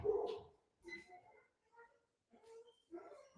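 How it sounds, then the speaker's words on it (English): A dog barks and whimpers indoors in a few short, separate bursts with pauses between them. The sounds are faint and fairly close, and no one speaks over them. "What are you barking at?"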